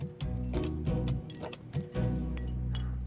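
Keys jangle and clink in a few bursts of metallic rattling, close to the listener, over a steady low hum with music-like tones in the background.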